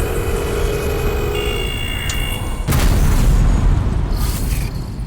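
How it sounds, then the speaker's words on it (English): A small explosion in the turn-based strategy game Into The Breach sounds as a sudden dull boom over a busy layer of game music and effects, followed by a brief rumbling tail. "Look at that little explosion."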